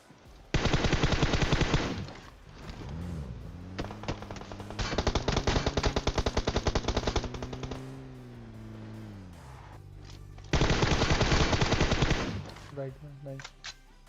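Automatic gunfire in the battle royale game PUBG Mobile, with loud rapid bursts that start and stop over a revving vehicle engine whose pitch climbs and falls, all close and dense.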